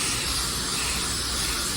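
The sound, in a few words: spray gun spraying sealer onto a spray out card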